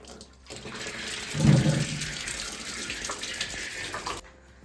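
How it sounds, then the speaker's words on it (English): Water gushes steadily from a plumbing system being purged and drained in an Italian farmhouse, a close, loud broadband rush that starts abruptly, surges briefly early on, holds for about four seconds, then cuts off with no talking. "first you have to purge the system of all the water."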